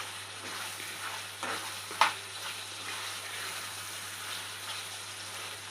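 Mutton heart frying in a pan while being stirred, with a steady sizzle throughout, a few scraping stirs and one sharp clink of the spatula near the middle; no talking.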